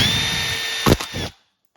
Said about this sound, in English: is a drill and my bits